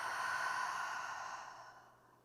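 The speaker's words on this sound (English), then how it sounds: "And exhale." A long, deep exhale during a beginner yoga breathing exercise, a smooth airy breath that starts full and gradually fades out over about two seconds, close and alone.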